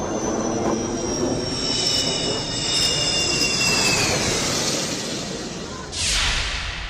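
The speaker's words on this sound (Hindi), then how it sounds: "बॉर्डर के करीब इमरजेंसी रनवे, हाईवे पर फाइटर जेट की दहाड़।" A fighter jet roars over a national highway emergency runway near the border, a loud sustained jet rumble with descending whine that swells and fades, then a sharp burst of noise near the end.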